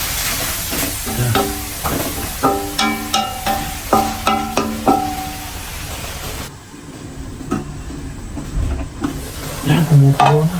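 Chicken adobo simmers and sizzles in a pan while a utensil stirs it in a run of quick, rhythmic scrapes, then the bubbling and frying hiss carries on alone up close.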